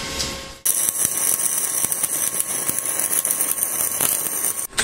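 Arc welding with E6011 electrodes on steel structural work, a loud continuous crackling sizzle that starts abruptly after a brief quiet moment and holds steady with irregular pops throughout.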